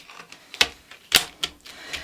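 An oracle card deck is shuffled by hand, giving several sharp, close papery snaps and riffles at irregular intervals, heard alone.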